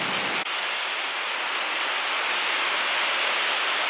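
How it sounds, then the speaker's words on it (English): Heavy pouring rain falls steadily, a dense close hiss that sets in after a brief quiet start and holds loud and unbroken to the end, with no voices. "It's still pouring rain."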